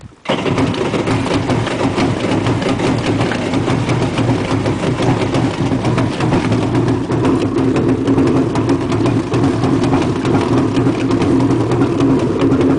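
A jet ski engine idles steadily as it warms up, a loud, close, rough mechanical drone with a rapid pulsing beat that runs unbroken for the whole stretch, no voices.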